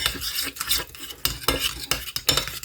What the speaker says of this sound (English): Just going to mix it up.